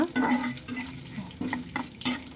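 Mutton curry frying with coconut in a pan, heard as a steady close sizzle and stirring scrapes, with a few spoon knocks and faint talk underneath.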